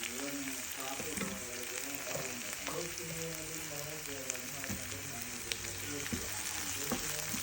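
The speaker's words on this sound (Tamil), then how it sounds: "அடுத்தது வந்து சில்லி போட்டலாம்" Chili fries in a pan for Batticaloa-style chicken biryani, a steady close sizzle with light crackles and occasional spoon taps, continuous and even throughout.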